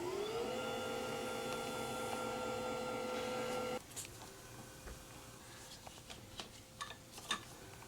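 A motorized patient lift being lowered, a steady electric motor whine with rising pitch running for several seconds then cutting off, followed by faint clicks and rustles of straps.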